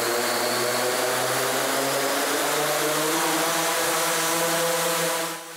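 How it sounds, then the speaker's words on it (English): A vertical takeoff and landing mothership drone drones steadily overhead, its propellers producing a loud, continuous tonal whine and hum that fades slightly at the end. "preparing to show us a vertical takeoff and landing mothership drone"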